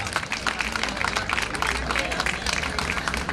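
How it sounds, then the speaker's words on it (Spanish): Crowd clapping for the champions of a popular walking league at an evening night-walk event in Zaragoza, dense steady applause with some babble mixed in, fairly close and continuous throughout. "Un aplauso para estos campeones de la Liga de Andadas Populares"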